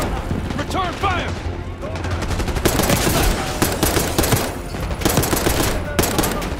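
Rapid automatic gunfire and bursts from a Call of Duty: Black Ops 6 firefight, loud and dense, with brief voices early on before sustained volleys.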